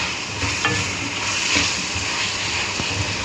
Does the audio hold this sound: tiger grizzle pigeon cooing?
no